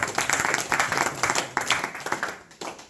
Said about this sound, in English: Please give a round of applause to Nanu Mataji.